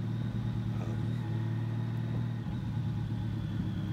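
A Honda Valkyrie motorcycle engine hums at a steady, continuous pitch while riding, with constant low rumble and no speech.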